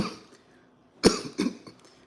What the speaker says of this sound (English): I got the cough on that one.